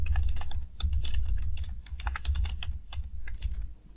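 Rapid typing on a computer keyboard, close and steady, with dense clicking keystrokes and short pauses between bursts over a low background hum.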